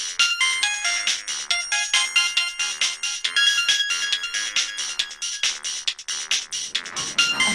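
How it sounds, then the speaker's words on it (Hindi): A phone ringtone plays a loud, repeating electronic melody of rapid bright tones, close and continuous, with a brief rustle near the end and no talking. "देवेंद्र, फोन आ रहा है किसी का।"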